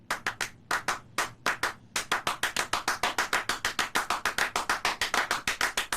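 Two people perform a piece of crisp close-up hand claps in a fast, interlocking repeating rhythm that forms brief grouped bursts separated by short gaps, then runs steadily.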